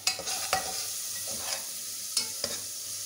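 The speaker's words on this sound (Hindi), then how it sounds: "आपने एक से दो मिनट तक आपने इसको फ्राई करना है ताकि अच्छी से खुशबू आ जाए" Crushed ginger and garlic fry in oil with a soft, steady sizzle, broken by a few sharp spoon scrapes and taps as the pan is stirred, quiet and close with no voices.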